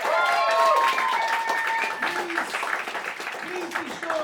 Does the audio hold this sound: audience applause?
yes